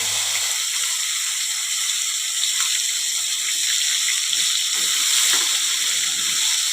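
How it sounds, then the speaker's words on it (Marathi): Ground spice paste sautés in oil over a low flame after a tempering of leaves, asafoetida and turmeric for a tomato saar. A steady, close, bright sizzle continues throughout with no talk. "हा मसाला आपल्याला मंद गॅसवर छान असा तेल सुटेपर्यंत परतून घ्यायचा आहे"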